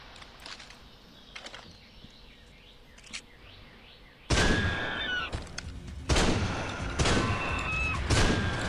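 Gunfire erupts in the Deer Hunter 2018 video game, with loud, close shots and sustained bursts after a quieter stretch of game ambience with faint birdsong and footsteps.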